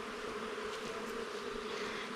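Honey bees from an opened wild hive in the woods swarm around their combs, making a dense, steady buzzing drone that hums close by and continuously, with no voices.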